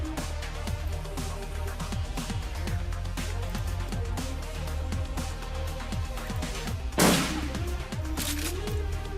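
Shotgun blasts and other weapon fire in the Shadowrun Returns game ring out as a string of repeated bangs over a continuous music track, with one heavy burst standing out near the end.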